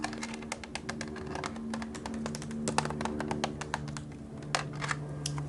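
Light fingertip taps on the textured dotted surface of a colored pencil box, quick irregular clicks repeating up close with a faint steady hum behind them and no talking.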